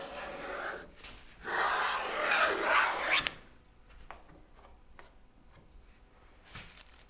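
A hand tool rasps across wooden molding to cut a chamfer, giving a couple of long, close scraping strokes in the first half, then quieter intermittent taps and scrapes.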